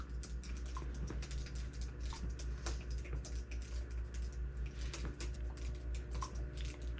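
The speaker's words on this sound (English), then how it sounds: "here on the keyboard, I can type" Someone types on a computer keyboard with a mouth stick, producing a faint, steady run of light key taps at an even, unhurried pace.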